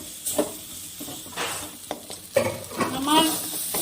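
Teasel gourd filling is stirred and fried in a pan, with soft sizzling and intermittent scraping of a spatula against the pan, fairly quiet and close, and a voice speaks briefly over it.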